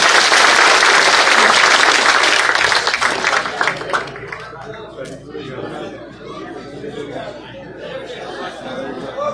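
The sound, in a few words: crowd applause at public rally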